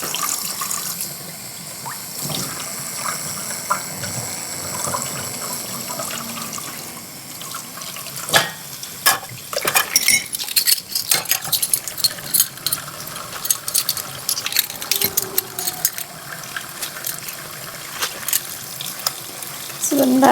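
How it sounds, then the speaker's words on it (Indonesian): Kitchen utensils washed under a running tap after pizza-making, with steady water flow in a sink and intermittent clatter and knocks of items being rinsed, fairly close and continuous. "kita cuci dulu peralatannya"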